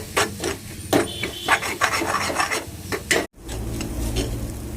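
A spatula stirs a cracked egg into a lima bean stir-fry (egg avarakka thoran) in a pan, giving repeated scraping, rasping strokes close up, with a brief dropout before a steadier low rumble.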